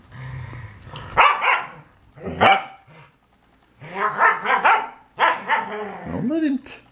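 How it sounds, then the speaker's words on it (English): A dog barks and yips in loud, close bursts, some drawn into whiny howls and growls, in several clusters separated by short pauses; a voice may also be present. "Don't let him. Bark him down."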